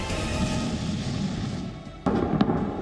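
An explosion at a military oil depot after a Russian air strike: a sustained, roaring rumble that drops away, then a sharp loud blast at about two seconds followed by further cracking bursts, with no voices.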